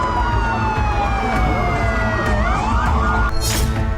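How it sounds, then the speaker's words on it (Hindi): Fire brigade and ambulance sirens wail across a city during rocket and missile attacks in Israel, loud and continuous with pitch sweeps over steady traffic rumble. "पूरे शहर में फायर ब्रिगेड की गाड़ियां और एम्बुलेंस के सायरन का शोर गूंज रहा था।"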